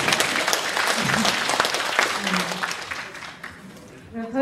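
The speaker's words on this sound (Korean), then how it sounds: "박수." Applause from an audience at a Korean business briefing, dense clapping that swells then thins out toward the end, with a few voices mixed in.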